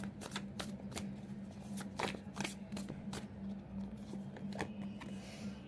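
Tarot cards being shuffled by hand at close range in a quiet room, a series of crisp riffling flicks in an irregular rhythm with a faint steady hum underneath and no talk.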